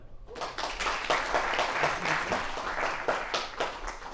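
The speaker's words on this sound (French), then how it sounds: "Et on peut les applaudir." An audience applauds the speakers at a talk about patching the Linux kernel: steady, fairly faint clapping from a modest crowd that fills the whole stretch without voices over it.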